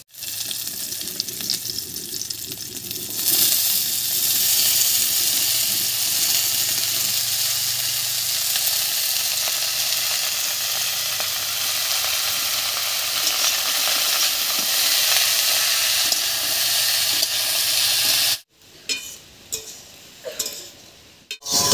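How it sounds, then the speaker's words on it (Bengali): Chopped mixed vegetables are stirred into hot oil over lightly fried slit green chillies for a low-oil Bengali mixed vegetable dish, giving a loud, steady broad sizzle with stirring scrapes that runs alone, then cuts off near the end, leaving softer clatter. "লঙ্কার উপরে সবজিগুলো দিয়ে একটু নাড়িয়ে নিয়েছি।"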